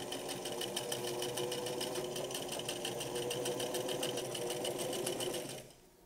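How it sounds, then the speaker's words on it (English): A sewing machine stitches a single-fold hem along the bottom of pajamas, a steady rapid mechanical chatter running loud and close for about five and a half seconds before stopping. "And run this hem at the bottom."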